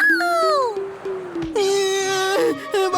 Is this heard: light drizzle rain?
no